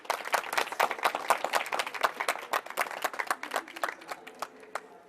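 An audience at Rajasthan University claps loudly for several seconds, the individual claps sharp and dense, then thinning slightly toward the end.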